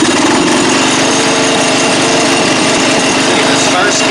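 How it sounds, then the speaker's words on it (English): An old Craftsman riding mower engine runs steadily and loudly close by, a continuous buzzing drone with a faint rhythmic pulse throughout. "we're going to fire this thing up and ride it around"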